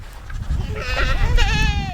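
Young farm goats bleat close by, several wavering overlapping cries building over two seconds, loud against a noisy rustling background.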